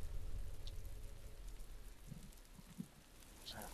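Rain falls steadily in the video game The Last of Us, a soft, even patter with a few louder drips and splashes near the end, heard alone without any voices.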